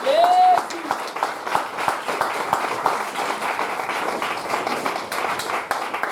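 A church congregation claps together, a dense steady patter of many hands under voices and murmurs, sustained at moderate loudness throughout.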